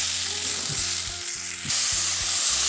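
Vegetables coated in mustard paste fry and sizzle steadily in a pan, with repeated rhythmic scrapes and knocks of a spatula stirring them close by, no talking.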